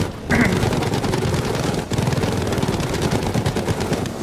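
Sustained rapid machine gun fire from a Messerschmitt Bf 109 fighter in Battlefield V, a loud, steady rattling stream with one brief break partway through.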